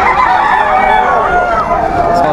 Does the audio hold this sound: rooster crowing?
yes